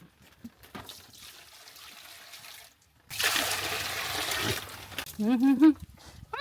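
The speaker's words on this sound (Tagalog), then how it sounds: "Lagyan natin tubig." Water poured for a pig in Siargao, a sudden close splashing rush lasting a couple of seconds, followed by high squeals and a person talking.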